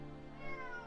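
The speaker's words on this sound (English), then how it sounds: "My cat is very cuddly today." A pet cat gives a faint, short meow, close by and quiet, with no talking over it.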